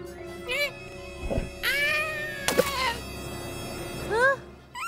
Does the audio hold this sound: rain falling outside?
no